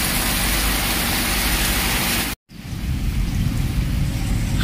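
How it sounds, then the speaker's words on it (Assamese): Rain falls steadily during flooding in Assam, a loud dense wash that cuts out for a moment and resumes slightly softer, with no talking. "ইয়াত বৰষুণ কমিবলৈ লৈছে"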